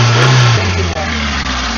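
A 2006 Hyundai Santro's small petrol engine briefly revs up from idle, a close, loud mechanical drone that rises then settles into a steady hum.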